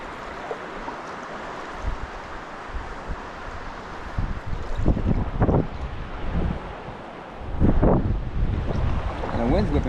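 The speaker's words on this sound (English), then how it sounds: "The wind's whipping pretty good today." Strong wind buffets the microphone during a kayak trip through the PA Grand Canyon, a steady roaring rush with louder gusts and some water sounds.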